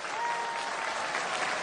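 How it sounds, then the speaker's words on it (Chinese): A crowd at the 2018 Hainan International Film Festival bursts into continuous loud applause and cheering welcoming Nicolas Cage, a thick, unbroken wall of clapping with a whistle cutting through. "全场欢呼，海南沸腾了"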